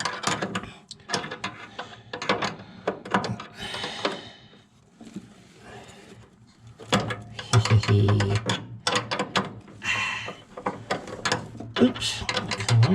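Ratcheting clicks and metallic tool sounds come from a wrench turning a bolt during a Jaguar MKII reassembly. Bursts of rapid clicking repeat in short runs, separated by quieter gaps and occasional low thumps, close by.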